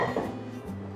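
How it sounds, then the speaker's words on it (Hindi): Dal and water being stirred in a metal pan over raised heat, giving a steady scraping and clinking of a spoon against the pan, close and continuous for about a second with no voices. "और इसे चलाएंगे ताकि सारी दालें और पानी सारा सब कुछ एक साथ हो जाए।"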